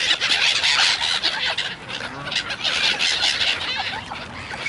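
A flock of ducks and Canada geese calls in close, loud overlapping honks, quacks and squawks, a dense continuous chorus that rises and falls.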